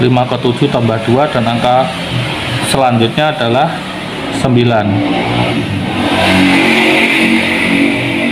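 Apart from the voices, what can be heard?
many motorbikes passing on the main road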